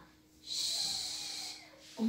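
A voice imitating a grandmother snoring, one drawn-out, wheezy snoring breath lasting about a second, close and fairly loud, followed by a short vocal sound.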